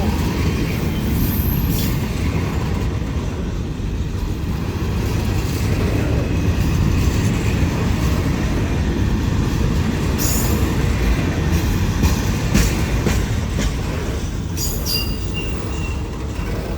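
Passenger trains on a Thai railway line roll past with a loud, steady rumble of engines and wheels on the rails. The noise is continuous and close for the whole stretch, with faint wheel squeals and no voices.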